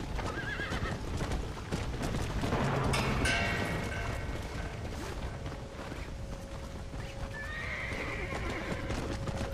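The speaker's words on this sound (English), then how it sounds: "I forgot how to tame the horse" A horse in Red Dead Redemption: Undead Nightmare neighs loudly and shrilly up close, with clip-clopping hooves and scuffling around it; a second, softer whinny follows near the end.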